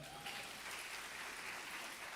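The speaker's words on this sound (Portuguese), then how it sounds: "Uma salva de palmas, Zé." Church congregation applauding after a volunteer demonstration during a sermon, a steady dense wash of clapping that holds evenly throughout at moderate distance.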